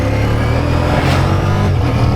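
A Ducati XDiavel V4 motorcycle with a 1.1-litre V4 four-cylinder engine roars loudly while accelerating hard, its close, steady engine note swelling briefly mid-pass.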